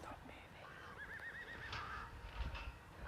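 A horse whinnies once at a stable before a dressage competition, a wavering neigh of moderate loudness, followed by faint hoof clops and shuffling in the background.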